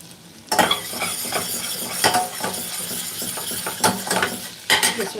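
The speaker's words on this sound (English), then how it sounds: "First we'll add the ginger and garlic." Ginger and garlic hitting a hot pan, with a soft sizzle under repeated stirring scrapes and clinks of a utensil against the pan, fairly close and steady with sharper knocks.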